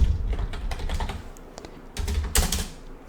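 Quick, close computer keyboard typing, a burst of light clicking keystrokes entering a dungeon name in a game, with no talking.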